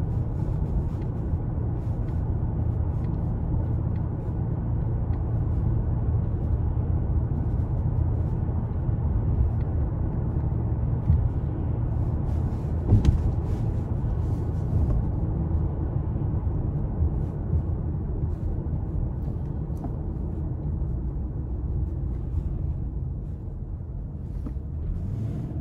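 A 2012 Lexus LS 460 all-wheel-drive sedan cruising, heard from inside as a steady, low road and engine rumble with faint wind noise, constant and unbroken, with no talking.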